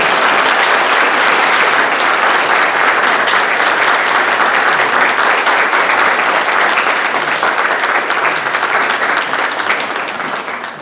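Sustained audience applause fills a graduation ceremony at a horticulture school in Räpina, dense and steady for about ten seconds before starting to thin at the end.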